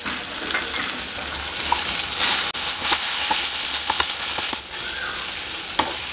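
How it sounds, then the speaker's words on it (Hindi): Paneer and vegetables seasoned with chaat masala are stirred in a hot frying pan, a steady close sizzle broken by repeated scraping strokes and light clinks of the spatula, with no talking. "अच्छे से हमने इसको मिक्स कर लिया है।"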